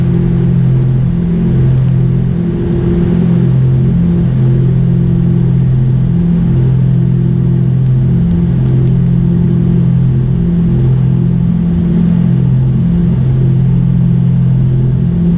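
Twin piston engines of a Piper Navajo climbing out after takeoff from El Dorado, Arkansas, power reduced to 35 inches and 2,500 rpm, giving a loud, steady droning hum with pulsing low harmonics throughout, no talking.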